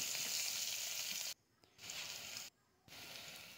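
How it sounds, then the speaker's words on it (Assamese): Onions are tipped into hot oil in a kadai just used for frying fish, giving a loud, close sizzling hiss that comes in three bursts separated by brief silences. "মাছখিনি ভাজি হোৱাৰ লগে লগে মই এতিয়া কেৰাহীখনতে পিঁয়াজ দি দিলোঁ"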